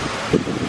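Wind blowing outdoors at a hotel in the Bahamas, a steady rushing gust of wind noise across the microphone with a brief stronger puff midway and no voices.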